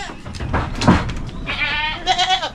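A farm goat bleats loudly nearby in a few wavering, nasal calls, with other faint animal and background sounds around it.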